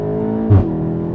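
A Volkswagen Golf 7 GTI TCR at speed shifts gear, its steady engine drone broken by a short, loud exhaust backfire thump midway before the engine note resumes, heard from inside the car.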